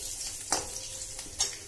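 Dried red chillies fry in a pan for Chettinad mutton chukka, giving a steady soft sizzle with two brief louder stirring scrapes, close and alone.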